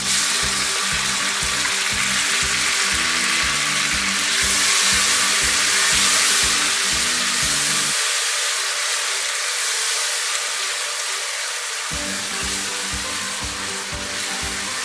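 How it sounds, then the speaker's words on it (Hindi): Tomatoes fry with green chilies in a pan, giving a loud, continuous sizzle with a rapid pulsing rattle underneath that stops for several seconds and then returns. "टमाटरों को भूनें।"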